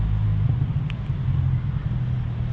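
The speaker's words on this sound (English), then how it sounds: "We're gonna wait for this car to go by" A passing car makes a steady low road rumble, close and fairly loud, holding even for a couple of seconds with a brief faint click in the middle, no voices.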